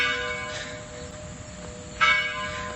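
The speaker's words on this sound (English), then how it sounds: "I didn't know there was a bell here." Church bell ringing outdoors on a walk through Georgetown, Washington, with two resonant strikes about a second and a half apart over a steady hum of street ambience, no talk.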